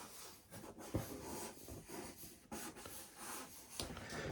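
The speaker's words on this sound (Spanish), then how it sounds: "Podemos hacer líneas también sinuosas" Charcoal stick drawing sinuous, curving lines on paper produces a faint, continuous scratchy rasp with uneven strokes and brief heavier scrapes, close and quiet with no talking.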